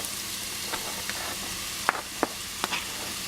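Vegetables for a lasagna sauté in a pan with a continuous close sizzle, punctuated by a few sharp clicks and taps of a utensil against the pan.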